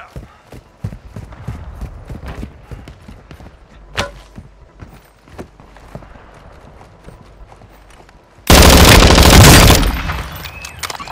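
Gunfire in Call of Duty Warzone: scattered sharp shots and short bursts crack through quiet stretches, then a loud, dense barrage erupts for about two seconds near the end.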